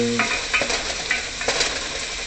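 Onions softening in a hot pan for spaghetti sauce give a steady close sizzle with light clinks of a utensil stirring against the pan, and no talking.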